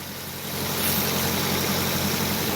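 A Nissan 240SX with a swapped SR20DET engine runs at a steady idle, a continuous loud hum with a low throb that swells slightly after the first half second, with no talking.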